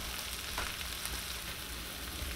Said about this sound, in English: So we'll just let that butter melt in there.